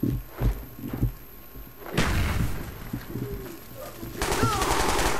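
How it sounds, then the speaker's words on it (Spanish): A grenade and bursts of gunfire in Call of Duty: Black Ops rooftop combat in Hong Kong, with several sharp shots early, then a louder burst and rattling fire near the end. "¡Tiro granada!"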